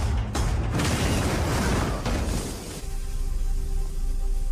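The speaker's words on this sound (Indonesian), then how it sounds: "pintu kamar tiba-tiba bergerak lalu meledak dengan sangat dahsyatnya" A violent explosion bursts through a room door in the film Firestarter, a loud sustained roaring blast with crashing debris that drops off abruptly, leaving a quieter rumbling tail.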